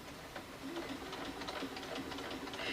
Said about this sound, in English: and then we can keep sewing